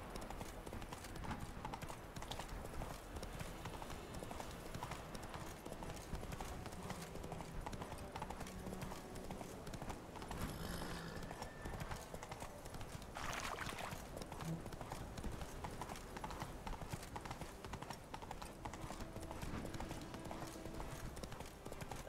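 Steady hoofbeat clip-clop of a horse galloping in the video game The Witcher 3, continuous and fairly quiet throughout, with a brief whinny-like burst and scattered game sounds layered over the rhythm.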